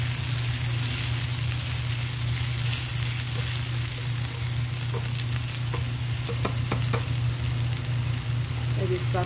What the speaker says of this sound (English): Let it saute for a while.